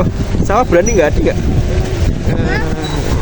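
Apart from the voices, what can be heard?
strong wind at Telaga Sarangan lake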